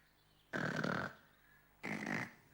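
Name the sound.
snoring-like sound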